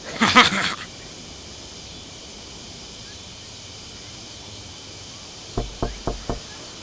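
Four quick knocks on a door in the video game Royale High arrive near the end after a long quiet stretch, preceded by a brief burst of hissy noise at the start.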